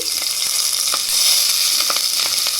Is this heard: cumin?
yes